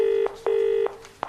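A telephone number is dialled in a comedy sketch, two long touch-tone beeps with a short gap between them, then a brief click, sharp and close.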